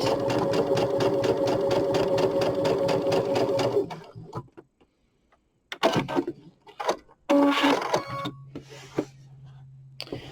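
Sewing machine stitching fabric at a quarter-inch seam, a rapid rhythmic run of needle strokes for about four seconds, then quiet broken by short bursts of stitching and handling clatter.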